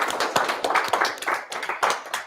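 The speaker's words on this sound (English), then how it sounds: "Let's give him a round of applause" A small audience at a cloud native security meetup gives a brief round of applause, scattered distinct claps from a modest number of people close by.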